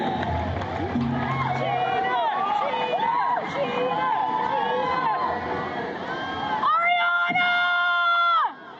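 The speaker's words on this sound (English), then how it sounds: "people were not happy with him, and you can hear it in the crowd here" A large concert crowd turns on a performer as his band plays, a dense roar of shouting and jeering that stays loud throughout, with music tones ringing out near the end.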